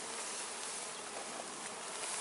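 Dense, steady buzzing of a swarm of honeybees being shaken down into a corner and scooped up by the half cup, a continuous close hum with no speech.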